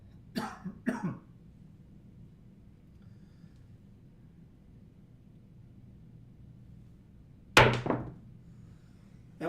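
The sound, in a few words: cough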